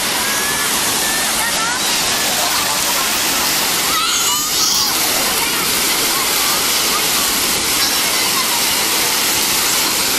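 Waves splash and wash in a steady, loud broadband roar of surf that runs the whole time, with voices faintly mixed in.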